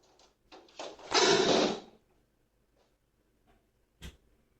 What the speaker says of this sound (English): I guess the door didn't close the first time.